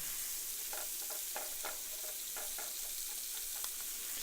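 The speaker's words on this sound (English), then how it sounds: "I don't know if you can hear through my microphone that this is like sizzling hot" Garlic sizzling in a hot pan, a steady hiss with faint crackles and a few soft stirring scrapes, no voices.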